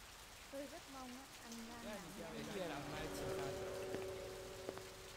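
Steady rain patters through a rainy city scene in the Blade Runner video game, a soft constant hiss beneath people talking.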